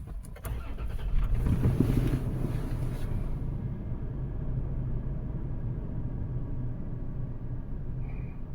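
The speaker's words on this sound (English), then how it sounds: "Let's start the car." A 2009 Toyota Land Cruiser 4WD fires up with a short cranking whirr, then settles into a steady, low idle that runs on evenly at a moderate level.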